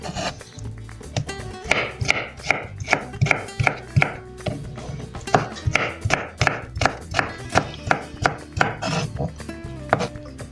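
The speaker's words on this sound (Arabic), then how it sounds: "هلا بدنا نفرم لها بعد راسين." Knife chopping tomatoes on a board while making chicken mansaf, a loud, steady run of close, evenly paced thunking cuts that continues through the clip.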